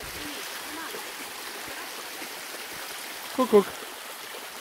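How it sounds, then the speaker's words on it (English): A stream of fresh water swollen by heavy rain rushes with a steady, even wash of sound outdoors, and a voice briefly speaks near the end. "It's been raining a lot and this is the result. Beautiful fresh water running anywhere, everywhere."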